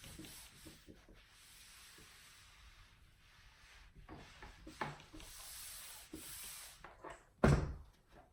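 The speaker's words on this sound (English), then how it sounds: "we're going to fold that over and create a nice crease" Fabric for a magic tube pillowcase being folded over and creased, heard as quiet, continuous rubbing and brushing with a brief louder scrape near the end, no talk.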